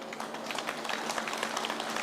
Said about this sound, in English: I think it needs a big round of applause